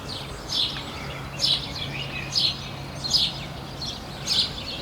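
Birds sing in suburban gardens near Geneva, repeated bright chirping phrases about once a second over soft outdoor background noise.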